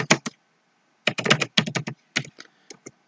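Typing on a computer keyboard while entering data into a spreadsheet, heard as a short burst of keystrokes, a pause, then several quick clusters of close, crisp clicks with no talking.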